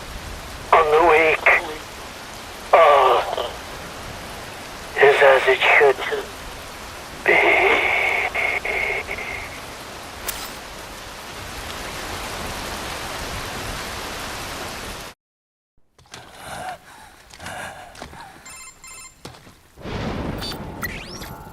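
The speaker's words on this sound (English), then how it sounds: "Wind blows, rain falls." Steady rain hisses in a cutscene from the video game Metal Gear Rising: Revengeance, with short bursts of voices over it, before it cuts abruptly to silence and other scattered sounds.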